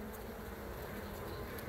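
Bees hum steadily at a garden beehive, a dense continuous buzz of insects close by with no pauses, and no one speaks.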